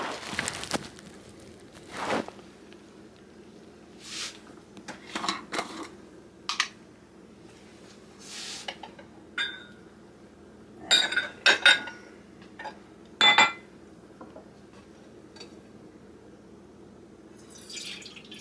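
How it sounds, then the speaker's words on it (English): Sweetened condensed milk is strained through a sieve into a pot on the stove, giving scattered drips, clinks and scrapes of metal utensils against the pot, separated by quiet gaps. "putting this through the sieve into a pot on the stove"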